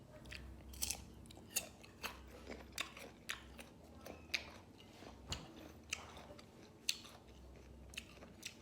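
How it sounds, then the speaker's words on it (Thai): Someone bites into and chews crunchy mango up close, giving a run of sharp crisp crunches at an uneven pace over faint background noise. "ม่วงโคตรกรอบเลย"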